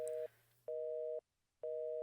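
A phone busy signal sounds in the video game The Painscreek Killings: three evenly spaced electronic beeps with short silent gaps between them, clear and alone with no talking.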